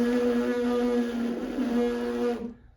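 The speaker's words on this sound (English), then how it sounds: "And if you do it correctly, you should get a buzzing sound." Trumpet player's lips buzzing without a mouthpiece, a steady, rough, nasal buzz at one pitch, held for over two seconds up close and then fading out, with no talking.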